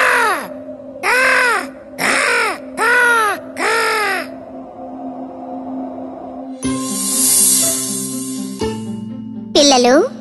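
A cartoon crow in an animated Thirsty Crow fable caws five times in quick, evenly spaced bursts. A pause follows, then brighter effects and tones, and one last shrill caw at the close.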